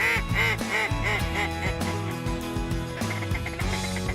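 A Yentzen ONE2 duck call, used for late season duck hunting, is blown in a loud, rapid rhythmic series of raspy quacks that then shift into a longer, more drawn-out calling sequence.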